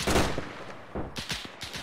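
Rapid bursts of rifle and machine-gun fire in the video game Arma 3, several sharp close shots in quick succession with echoing tails, no talking.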